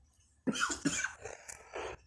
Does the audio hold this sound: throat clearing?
yes